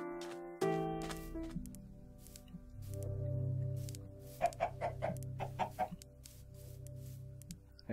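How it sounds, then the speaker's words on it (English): Chickens cluck in a Minecraft world, a run of short, sharp squawks and clucks close by over a low sustained game tone, with no talking. "Come with me, chickens."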